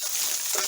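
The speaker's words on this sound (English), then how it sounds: "So 2 jalapenos, serrano chilies. Then let's give this a stir." Jalapenos and serrano chilies hiss and crackle in a hot pan as they are stirred, a brief burst of close, steady frying noise.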